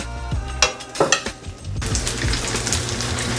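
Salmon cooks in a garlic butter pan on low heat. A few clinks of utensils come first, then a steady, soft sizzle takes over and holds to the end.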